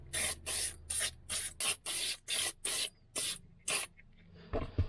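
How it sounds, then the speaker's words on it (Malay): Mr DIY multi-purpose foam cleaner sprayed from a trigger bottle in about ten sharp, evenly spaced hissing bursts, close and loud, with a brief rustle at the end. "Mula-mula kita goncang dulu. Okay, lepas tu kita sembur."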